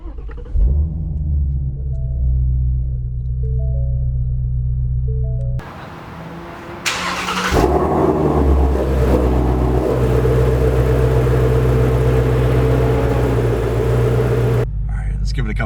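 A 2019 Ford Mustang Shelby GT350 fires up close by and settles into a deep, steady rumbling idle, which swells louder and rougher partway through.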